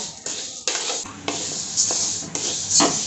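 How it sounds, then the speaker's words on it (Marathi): Lentils dry-roasting in a pan on full flame, stirred continuously, giving repeated rough scraping and rattling sweeps with dry crackle, close and fairly loud. "मी सुरुवातीला फुल गॅसवरती सतत हलवत राहत आहे हे डाळ"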